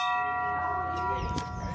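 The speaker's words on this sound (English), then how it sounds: "I'm gonna ring the bell." A bell rung once gives a sustained, steady ringing tone that slowly fades, with a brief clatter near the end and faint background noise.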